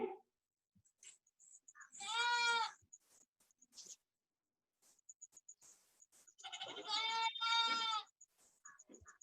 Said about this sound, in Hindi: भैया बकरी तो बांध लो